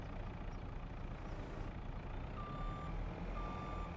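In-game vehicle reversing alarm from Farming Simulator 25, steady evenly spaced electronic beeps over a low idling truck engine rumble, clear and moderately close.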